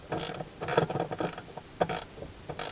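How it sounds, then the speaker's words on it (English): Ratchet wrench, 5/8 size, tightening an air fitting on a Can-Am Spyder air system install, giving short bursts of clicking mechanical ratcheting with pauses between strokes, close up and moderately quiet. "Tighten the fitting up. I'm using a ratchet type 5/8 wrench"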